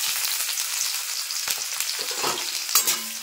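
Chopped onions dropped into hot oil with bay leaves and whole cumin give a steady close sizzle, broken by a few spatula scrapes and stirring knocks near the end.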